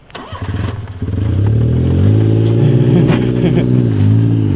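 A kei truck engine dies after being left in gear, then cranks and fires back up, settling into a loud, near, steady running drone with a few revs over the top.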